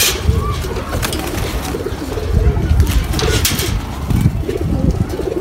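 Pigeons on a racing pigeon farm coo in a steady low murmur close by, a dense flock sound with faint flutters and chirps mixed in.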